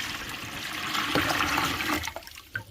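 Water pours steadily into a raised pet water bucket topped up for winter, a continuous close splashing and gushing that tapers off near the end.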